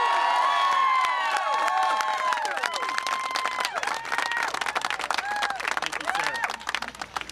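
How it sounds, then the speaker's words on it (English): A rally crowd at the Pennsylvania Capitol applauds and cheers for Governor Wolf, a loud sustained wash of clapping with whoops and shouted voices throughout, gradually thinning toward the end. "I want to go out with a big, gigantic applause for the governor"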